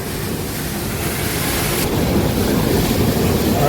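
A ginger-washing machine fed from a tractor load churns roots with water: a loud, continuous broadband rushing and sloshing that swells slightly partway through, with no talking.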